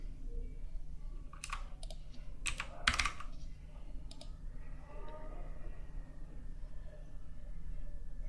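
Numbers typed on a computer keyboard while entering values in an Excel 2013 spreadsheet, a short cluster of crisp close key taps and clicks followed by quiet background hum.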